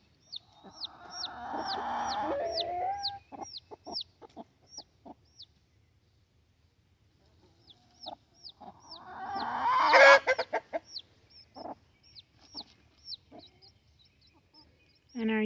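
Young homestead hens cluck in a series of short, close calls, with a loud burst of clucking in the middle and quieter pauses between, with no talking.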